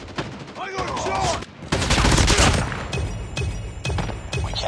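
Gunfire in a Call of Duty multiplayer match: dense bursts of automatic shots and impacts crowd the whole stretch, loud and close, with radio-style voice callouts in the mix.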